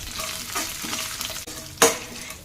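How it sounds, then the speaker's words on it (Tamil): Dried red chillies sauté in a pan for coconut rice, a close, steady crackling sizzle with soft stirring and one sharp scrape near the end. "இப்போ வத்தல் நல்லா வதக்கிக்கலாம்."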